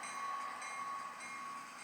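A model train runs on a layout, producing a faint, steady rolling hum with a thin high whine and soft rail clicks, quiet and continuous with no talking.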